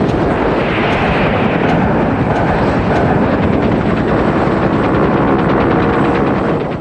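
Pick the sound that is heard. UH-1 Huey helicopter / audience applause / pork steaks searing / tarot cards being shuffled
UH-1 Huey helicopter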